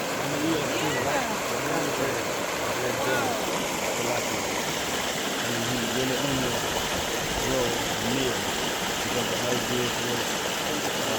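Flowing river water comes down as a steady rushing wash, loud and continuous, with a low engine-like rumble and murmuring voices underneath.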